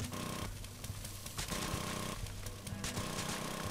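A powered auger grinds through ground in 7 Days to Die, a loud, harsh mechanical drilling that pulses in repeated surges with brief dips between them, close and continuous without talking.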